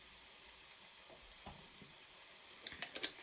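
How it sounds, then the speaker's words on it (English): Aubergines frying in hot seed oil in a pan, a soft steady sizzle with a few sharper crackles and pops toward the end, quiet and close. "I'm going to fry my aubergines."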